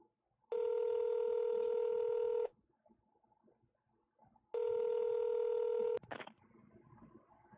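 A telephone call placed in the video game Nobodies gives two long, steady electronic tones separated by a pause, followed by a short click and a faint line sound.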